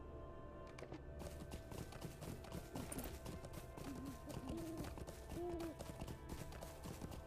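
Horse hooves clip-clop steadily at a trot or walk in Lord of the Rings Online while a rider stays mounted, a continuous moderate rhythm of hoof beats layered with soft game ambience and occasional faint tones.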